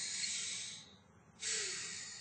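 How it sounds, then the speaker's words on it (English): A long hissing breath, a short pause, then another airy breath, close and soft, like slow deep breathing in and out. "could you take a deep breath in and out for me?"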